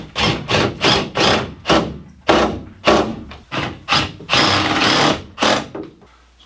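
Close power drill driving screws through a shower valve flange into wall studs: repeated short bursts of whirring, about a dozen in a row with brief pauses, loud and nearby, no talk.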